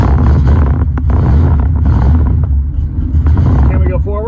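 A vehicle fresh from a transmission swap, with a TKO gearbox mentioned, rumbles heavily at low speed on a test drive, its engine and drivetrain drone loud and close alongside wind buffeting, with a voice talking over it.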